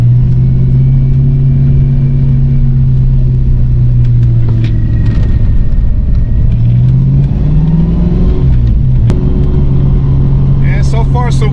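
A car fitted with a rebuilt T5 manual transmission runs with a loud steady engine drone, rising and falling through revs and gear changes, close and continuous.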